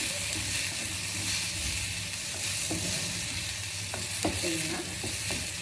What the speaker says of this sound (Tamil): இது வதக்கிட்டு இந்த கொழுக்கட்டையை இதில் போட்டுருங்க